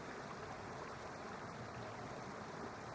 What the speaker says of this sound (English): The sound of waterfalls swells around you as you wonder where this enchanted water is coming from.